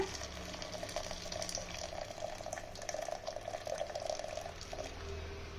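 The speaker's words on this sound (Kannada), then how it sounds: "ಈಗ ಇದರಲ್ಲಿ ನೀರಿದೆ ನೋಡಿ, ನೀರನ್ನ ತೆಗಿಬೇಕು." Cooking water being drained off boiled toor dal for rasam: a steady, moderately loud pouring and trickling of liquid that runs the whole time, with no voices.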